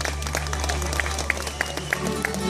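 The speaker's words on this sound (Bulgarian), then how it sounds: "Аплодисменти!" A crowd applauds as Robert Pires and Fabio Capello carry the Champions League trophy onto a stage in Sofia, with steady clapping under a dense murmur of voices in a large room.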